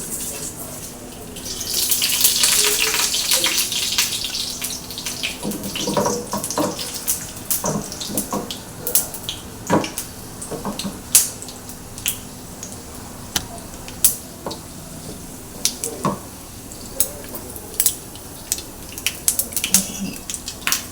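Green chilies, cumin and mustard seeds frying in hot oil for a Telugu ridge gourd yogurt chutney: a steady hiss swells early, then fades into scattered sharp pops and crackles.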